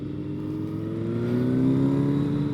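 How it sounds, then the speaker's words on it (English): A motorbike engine hums close by without a break while the rider teases the throttle, and its pitch climbs gradually as the revs build. "You want to tease the bike a lot and get the feel for it,"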